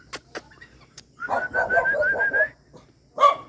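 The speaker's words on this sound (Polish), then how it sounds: "jakaś burek mnie tu będzie gonił zaraz" A stray dog in Dumaguete barks in a quick run of several yelps, then lets out one more bark after a short pause, fairly close and clear against quiet surroundings.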